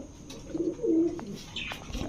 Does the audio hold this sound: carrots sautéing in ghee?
no